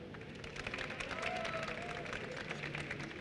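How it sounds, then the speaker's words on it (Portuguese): An audience at a Campus Party Brasil panel on Turma da Mônica graphic novels applauds, a faint, distant patter of clapping that swells briefly and then holds low. "Vocês podem aplaudir."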